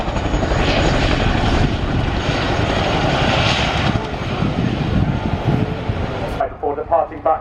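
A Chinook helicopter at an air show accelerating backwards and taking off, a loud, steady rotor and engine roar that fades toward the end as a voice speaks over it.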